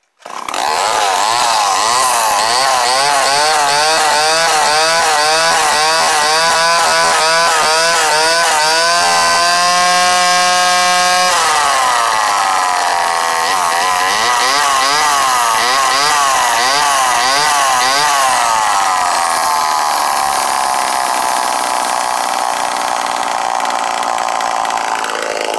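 A revived Homelite XL12 chainsaw runs loud and close, its two-stroke engine revving and wavering, then settling into a rough, steady idle that carries on throughout.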